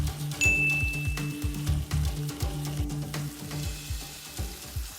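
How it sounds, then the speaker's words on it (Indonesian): Rice sautéed in a pot in a television cooking show kitchen makes a rhythmic scraping and sizzling as it is stirred repeatedly, with a brief high electronic tone near the start. "Oh, berasnya ditumis ya?"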